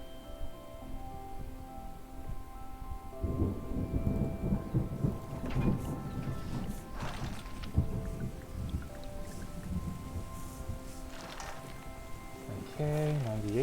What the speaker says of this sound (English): Nice storm sound effects. I don't have to do mine myself for once.